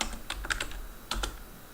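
Keys clack on a computer keyboard in two short bursts of close, crisp typing with a brief pause between them.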